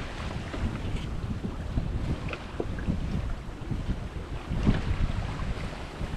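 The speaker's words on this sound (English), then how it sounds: "This is what I call the perfect wind." Strong wind buffets the microphone aboard a sailboat at sea, a continuous rough rushing roar with surges of gusting and water wash beneath, no talking.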